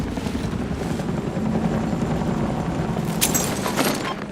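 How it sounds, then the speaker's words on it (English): A helicopter's rotor thumps steadily throughout in the video game Battlefield 6, loud and close, with bursts of gunfire and explosions in the background. "Enemy helicopter!"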